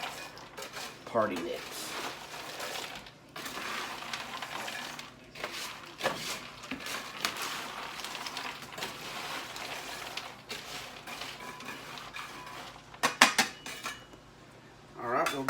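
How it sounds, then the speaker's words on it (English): Party mix rattling and clattering against a metal baking pan as it is stirred and shaken, a busy crunchy scraping with a few sharper clinks, heard close under intermittent talking. "as it hits the pan, it's making more of a baked sound"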